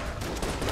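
Explosions and gunfire in the video game Enter the Gungeon, a loud, dense burst of overlapping blasts filling the short moment without a pause.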